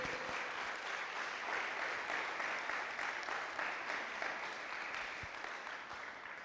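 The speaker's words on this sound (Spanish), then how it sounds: "dale el aplauso al Señor" A church congregation breaks into a continuous, full round of applause during a sermon, dense clapping holding steady before easing slightly at the close.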